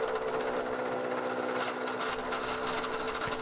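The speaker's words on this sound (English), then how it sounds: "using a mill, we're machining our aluminium ingot into a cuboid with flat faces" A milling machine cuts a cast aluminium ingot into a flat-faced block, giving a loud, steady mechanical whine with sustained tonal hum throughout.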